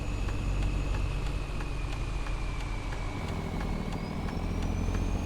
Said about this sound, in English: There goes that truck.